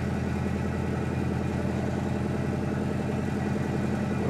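A 1963 Impala SS engine, apparently starved for fuel, runs at a rough, steady idle with a low, even pulsing drone. It stays fairly faint and constant throughout, with no clear rise in revs and no talking.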